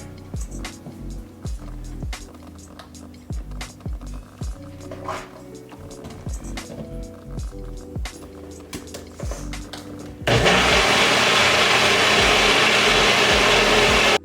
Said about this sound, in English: now we're going to go back to the blender.